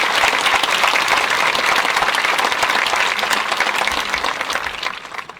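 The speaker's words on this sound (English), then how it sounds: "A big round of applause for all of them." An audience at a graduation ceremony gives a loud, sustained round of applause, dense hand claps filling the hall and easing off slightly at the end.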